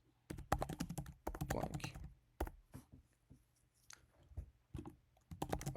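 Typing on a computer keyboard in bursts of rapid, close key clicks separated by short pauses, with a single word spoken briefly amid the keystrokes.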